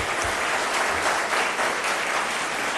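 Steady, full applause from an audience at a Pakistani event addressed by Prime Minister Shahbaz Sharif, a dense continuous clapping that stays loud and even from start to finish.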